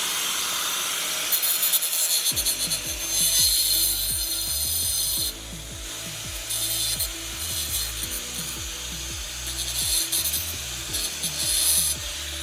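A grinder cuts a U-shaped notch into a ceramic backsplash tile for an electrical receptacle, a harsh continuous abrasive rasp with wavering pitch, loud and close, without speech.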